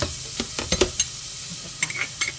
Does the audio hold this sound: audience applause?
no